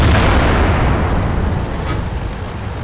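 Artillery shell explodes in World of Tanks beside a Jagdtiger 8.8cm tank destroyer, a loud, close, deep boom that fills the start and rolls off into a rumbling decay.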